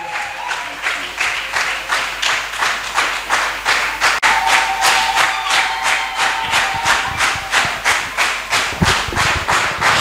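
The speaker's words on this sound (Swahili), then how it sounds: "Ongeza makofi na vigelegele mpaka wanapofika mahali" Rhythmic unison clapping from a church congregation welcoming speakers to the altar, loud and steady throughout with crowd noise and a brief sustained tone mid-way; no clear ululation stands out.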